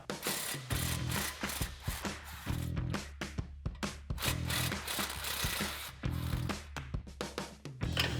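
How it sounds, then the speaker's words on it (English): A ratchet wrench turning a 14mm socket on an extension to remove the exhaust flange spring bolts on a 2024-2025 Toyota Tacoma, a close, steady run of rapid clicking strokes with brief pauses. "we're just gonna put an extension on our 14mm socket to get those out."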